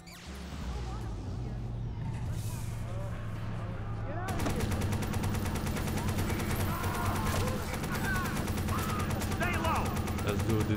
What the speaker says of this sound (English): Some guy shooting out here!